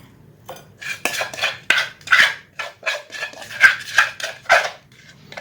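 Pounded squid salad is served onto a plate with a quick run of close, bright clinks and scrapes of cutlery against dishes, about a dozen knocks with no talking.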